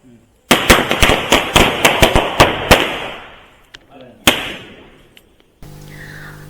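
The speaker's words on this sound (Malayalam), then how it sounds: "നമ്മൾ കുറേ പടക്കുകളൊക്കെ വെച്ചു" Diwali firecrackers going off at home: a quick string of sharp, loud bangs in rapid succession, then a pause and one more crack, ending with faint background sounds.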